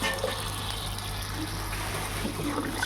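Hot water trickling and splashing into a pan of pointed gourd and paneer curry on a gas stove, a steady close liquid pour with faint kitchen background noise and no talking.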